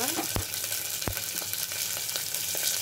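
Red chillies fry in a pan for a brinjal curry, giving a steady close sizzle with a couple of sharp pops and crackles and no voices.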